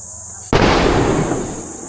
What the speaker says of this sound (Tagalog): Pasabog yun.